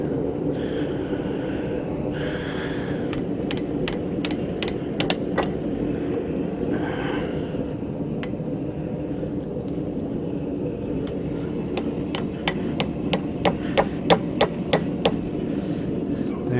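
A hammer striking a hot railroad spike on an anvil during forging, a series of sharp metallic rings in bursts, clustering faster near the end, over a steady background hum from the shop.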